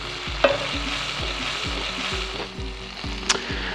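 Oil sizzles steadily in a pan as garlic and tomatoes fry, with a repeating scrape of stirring and a couple of sharp clinks.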